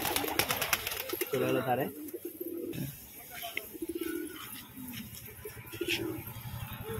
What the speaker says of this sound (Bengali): তো এখন আপনাদের কাছে কিছু জাক পায়রা শখ করাবো।